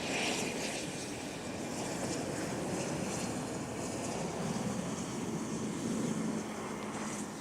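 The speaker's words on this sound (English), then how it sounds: "That's the ERJ. I think this is the smallest jet, the smallest commercial jet" An Embraer ERJ regional jet at Toronto Pearson airport on a cold, snowy day gives a steady, distant engine roar with broadband rush, holding level throughout without voices.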